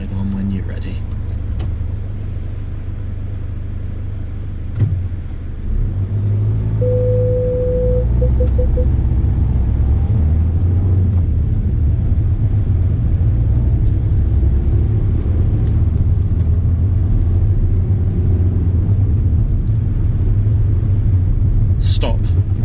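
Car engine rumbling steadily through a driving test, a low continuous drone that swells as the car pulls away, with an examiner and driver talking intermittently over it.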